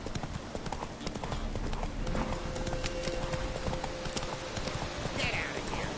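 Hooves of Roach, a horse in a PS4 video game, clip-clop in a steady galloping rhythm throughout, fairly loud against constant game background sound, with a brief faint whinny-like tone partway through.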